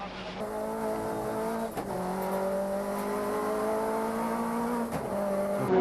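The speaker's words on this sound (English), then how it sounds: "Tiffany Dell is driving the yellow Nova" A yellow Vauxhall Nova races on tarmac, its engine droning steadily and loud, with the pitch climbing through the gears and briefly dipping at shifts.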